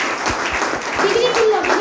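An audience claps steadily at a business talk, forming a dense, continuous patter with a voice and some tonal sound running over it.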